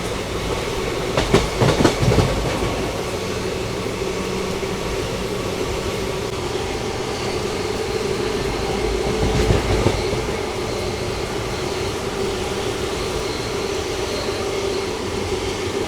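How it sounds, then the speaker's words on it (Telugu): A Vasco da Gama–Hyderabad weekly express hauled by a diesel locomotive runs steadily near a ghat section, its loud continuous rumble and wheel noise filling the whole stretch with a few brief clattering bursts. "సో డీజిల్ అయితే బాగా కొడుతుందండి బండి"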